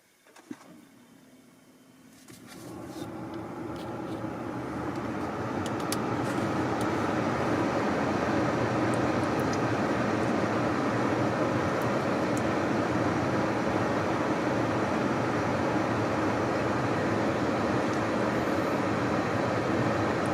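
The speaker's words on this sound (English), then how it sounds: "I'm just going to do start climate control" Climate control of a Kia EV6 starting up after a remote start, a steady broadband whoosh of fan and airflow that ramps up over a few seconds and then holds a constant, fairly loud level with no talking.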